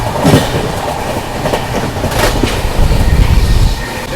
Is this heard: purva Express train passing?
yes